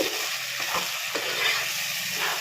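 A spoon stirs chilli and cashew paste into chicken curry frying in a pan, giving steady scraping and mixing over a soft sizzle, close and continuous with no talking.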